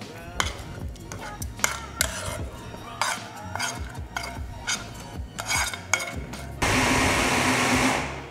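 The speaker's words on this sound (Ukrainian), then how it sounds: "Цибульку посировану теж вбиваємо у блендері." Utensils clink and clatter against a bowl, then a blender chopping onion kicks on with a loud, steady whir near the end.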